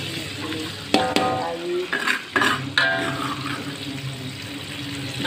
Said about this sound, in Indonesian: aku goreng lagi bumbunya yang tadi aku ulek